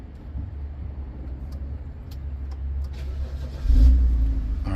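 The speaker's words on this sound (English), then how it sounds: "Alright, the car started" A BMW X5 E70 engine cranks and catches, settling into a low idle before a louder surge near the end. It is heard close up and without voices.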